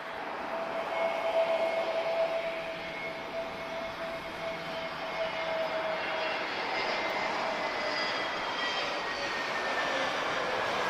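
A Boeing Dreamliner passing very high over Lisbon gives a steady, distant jet roar that swells slightly and holds for the whole stretch, with no talking.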